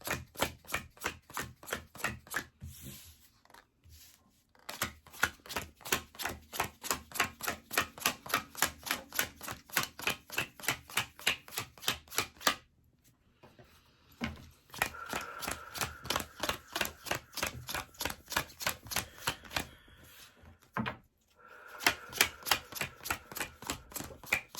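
Tarot cards being counted out one by one, a fast, steady run of crisp, close snapping flicks that pause briefly a few times before resuming, with no talking.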